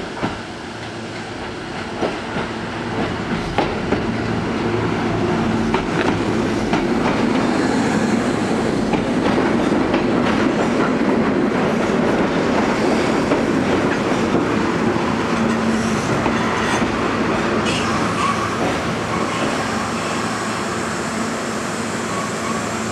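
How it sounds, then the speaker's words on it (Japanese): A Kintetsu 30000 series out-of-service train pulls into a platform at Ujiyamada, its steady wheel and rail rumble and clickety-clack swelling and holding loud for over twenty seconds, with faint squeals near the end. "まもなく3番乗り場に回送電車が参ります。"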